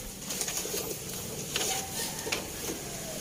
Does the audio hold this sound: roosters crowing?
no